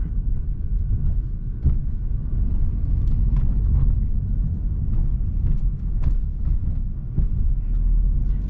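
Steady low road rumble from a 2015 Mercedes-Benz C300 driving in comfort mode, with several soft thumps as the tyres roll over bumps, heard from inside a quiet cabin.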